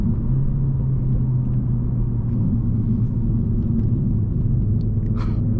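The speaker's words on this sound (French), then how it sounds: "On entend aussi un petit peu l'échappement" A Renault Megane 4 RS Trophy facelift accelerates hard, its engine and exhaust making a loud, steady low rumble heard from inside the car throughout, with no talk.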